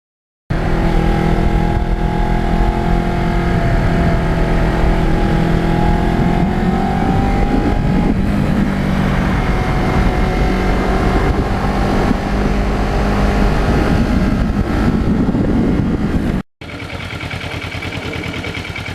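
A 2009 Kawasaki Ninja 650R motorcycle engine pulls hard under steady acceleration, loud and close, with rising engine tone and a gear change near the end, no talking.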